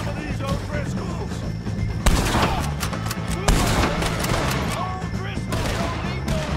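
Gunfire in Red Dead Redemption 2 during a shootout with O'Driscoll gang members: steady overlapping shots and sharp cracks, with a couple of louder blasts, while voices talk and shout over it.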